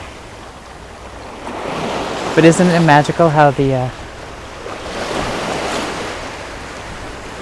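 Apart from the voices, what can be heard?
sea waves splashing on shore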